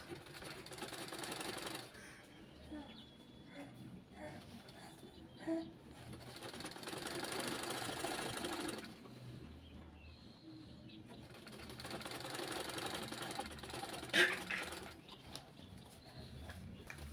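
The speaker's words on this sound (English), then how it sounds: "Remember, you're sewing on the wrong side." Sewing machine stitching baby frock fabric with elastic sleeve, a faint, steady mechanical whir running in bursts with short pauses between runs.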